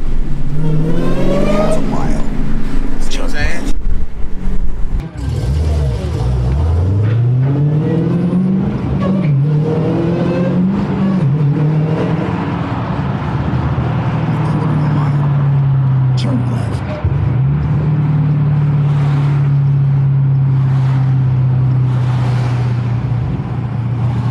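Dodge Challenger Hellcat with a stock exhaust revs outdoors on a cold Brooklyn street, opening with sharp blips and then rising into a long, loud, sustained rev that drops off and swells again, with no voice over it.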